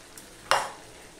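Pointed gourd pieces dropped into a hot pan of spices with onion and garlic give one sudden, loud sizzle that flares up and quickly settles into a soft hiss.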